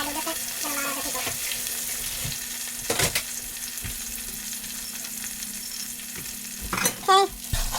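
Onions fry for Bombay goat biryani as more ingredients go in, a steady sizzle with scraping stirs and clanks, a brief splashy burst near the end, and faint murmuring voice at moments.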